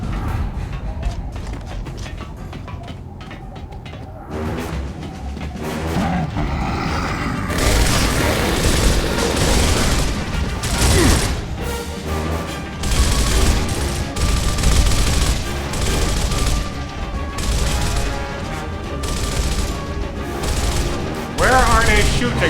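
Sustained battle noise from Gears of War: dense automatic gunfire, booms and mechanical clatter roll on loudly and continuously, with occasional voices talking over the din.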